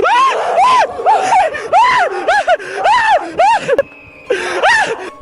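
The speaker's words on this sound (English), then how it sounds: "Terrified screaming ensues as the men turn to run back the way they came" Several men scream in terror in a rapid series of loud, rising and falling shrieks as they flee a figure in white along train tracks, with a brief lull before one final scream.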